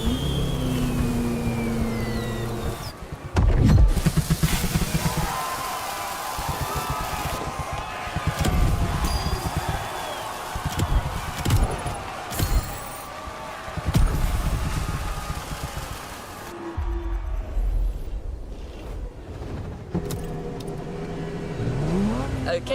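Race car engine in The Crew Motorfest, revving and shifting repeatedly with surging whines and brief drops, loud and close throughout with a clear gear change near the end.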